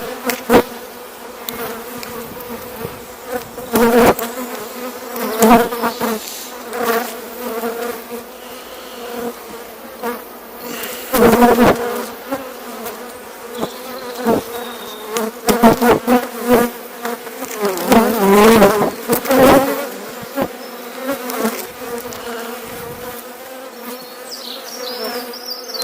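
Honey bees buzz loudly and continuously around an opened hive during beekeeping. The dense droning hum swells and fades as individual bees fly close past.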